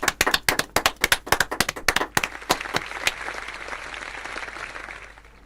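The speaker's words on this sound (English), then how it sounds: "A big applause to them." Audience applause for silver medal winners at a ceremony: a burst of sharp, distinct handclaps that thickens into a steady wash of clapping, then fades to a softer patter.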